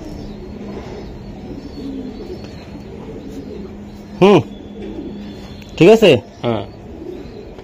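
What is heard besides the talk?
racing pigeons cooing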